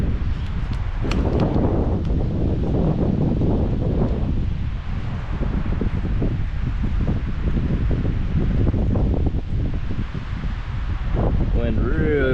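Gusty wind roars through an alder tree and across the microphone, a constant heavy rumble with rustling leaves, while a voice speaks briefly near the end.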